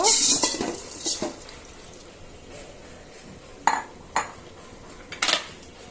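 Uncooked rice goes into a pot for thin khichuri with spices and chopped onion and garlic, heard as a rattling pour at the start followed by sparse metallic clinks of a utensil against the pot, close with quiet gaps and no talking.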